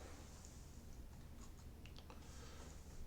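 Soft keystrokes on a computer keyboard as a movie title is typed in, a few faint scattered clicks buried under steady background hiss, no talking.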